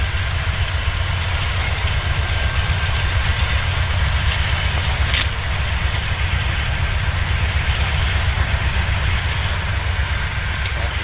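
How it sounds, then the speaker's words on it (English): A train engine rumbles steadily at a railfanning spot, a continuous heavy low drone with rail noise that stays loud and even throughout, with a brief hiss near the middle and no voices. "It's picking up speed."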